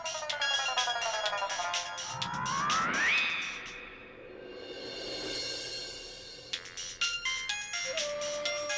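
An electronic ringtone melody plays, broken by a rising swoosh in the middle before the chiming tones return.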